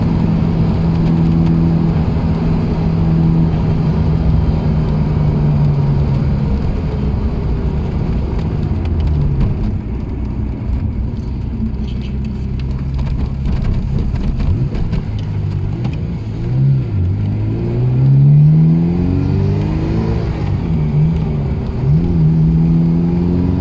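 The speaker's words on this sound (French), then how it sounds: "on est parti faire un petit tour dans la Ferrari 348 TS" A Ferrari 348 TS engine, heard from inside the car, hums steadily at cruise with a rising and falling drone as it accelerates and shifts, close and continuous, with no talking.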